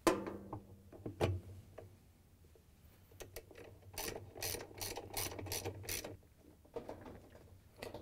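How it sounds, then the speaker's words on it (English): Ratchet wrench with a 7/16 inch socket tightening the agitator coupler bolt on a GE washer, a series of quiet clicking bursts, some in quick rapid runs and others spaced out, close and alone. "We can tighten it down with the same 7/16 inch socket that we used to take it out."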